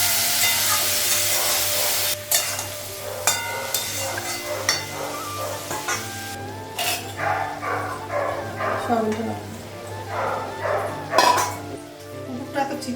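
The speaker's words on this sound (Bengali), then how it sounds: "কুকুরটা এত চিৎকার করে, ঘরে থাকি কি করে কে জানে।" A dog barks repeatedly somewhere in or near a home kitchen, its calls mixed with the clatter of pots, utensils and stirring, while someone talks intermittently.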